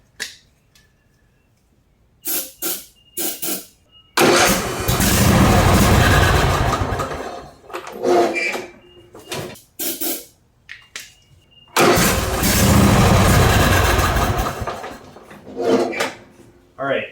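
A riding mower engine with no compression cranks and catches in two loud, rough roaring bursts of several seconds each, broken up by shorter sputters and pauses, with a voice speaking in between.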